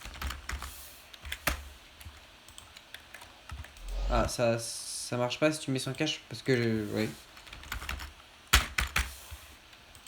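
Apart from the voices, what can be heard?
computer keyboard typing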